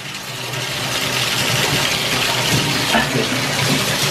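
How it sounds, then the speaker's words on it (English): Water runs steadily from a tap while a dog is bathed, a loud continuous splashing hiss that fills the whole stretch without pause, close by. "it's just water."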